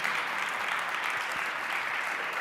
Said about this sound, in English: One more round of applause for Dasha.